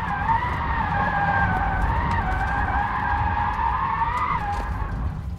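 A Rimac Nevera electric hypercar drifts with its tyres skidding in a loud, sustained squeal that wavers in pitch and rises near the end, close and unbroken, with no talking over it.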